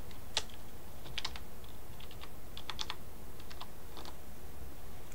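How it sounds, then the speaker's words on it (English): Typing on a computer keyboard while entering codes in Club Penguin, with scattered clusters of quick, light key clicks at an irregular pace over a steady faint hiss, no voices. "so I'll keep typing for you guys"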